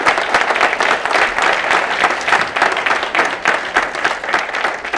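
Sustained audience applause, many hands clapping in a dense, even wash that fills the whole stretch at steady loudness.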